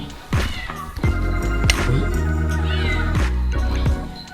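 Two cats meow loudly and close by inside a house. Several drawn-out meows follow one another in quick succession and sometimes overlap.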